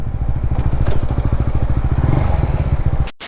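A 2021 Honda CBR150R motorcycle engine with dual-channel ABS runs close and loud with a steady, rapid pulsing beat, then cuts off abruptly just before the end.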